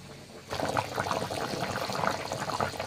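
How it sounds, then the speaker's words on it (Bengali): A pot of curry bubbles and simmers on the stove, a steady wet seething and popping that starts abruptly and carries on close and fairly loud, with no one talking. "তরকারিটা কিন্তু প্রায় হয়ে গিয়েছে, তরকারিটা ফুটছে।"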